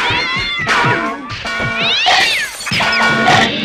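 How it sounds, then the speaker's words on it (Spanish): A cat meows several times in a row, loud and close, with whining, caterwauling cries that rise and fall in pitch. "Un gato."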